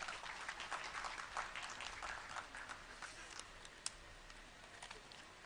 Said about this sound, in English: Ladies and gentlemen, please welcome with a big round of applause.